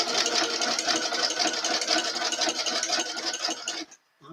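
Sewing machine stitching a fabric edge with an overcast presser foot, a steady fast mechanical whir running for about four seconds, then stopping abruptly.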